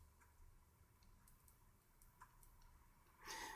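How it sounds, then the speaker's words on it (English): A Lego Barcode Truck (set 8479) motor hooked to a bench power supply gives faint, steady ticking clicks over a low hum, followed by a louder burst near the end. "it's clicking and drawing a current"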